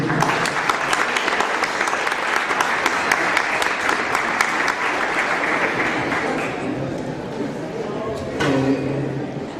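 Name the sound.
audience applause for a speaker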